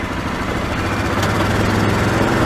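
A Yamaha Wolverine R-Spec ATV on 33-inch tires with portal gear hubs drives with a steady, loud engine drone and low rumble that holds constant throughout, with no voices.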